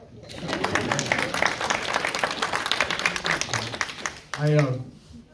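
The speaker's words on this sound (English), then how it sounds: "You should get an applause at this point." A crowd applauds at a Washington State legislative representative's town hall, with a dense patter of clapping mixed with voices. A person speaks briefly as it ends.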